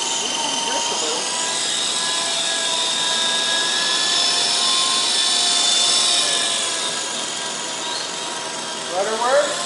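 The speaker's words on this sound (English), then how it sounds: "Throttle works, tail rotor works" A small model helicopter runs on the bench with its tail rotor working, giving a loud, steady high-pitched motor and rotor whine whose pitch swells and eases slightly with the throttle.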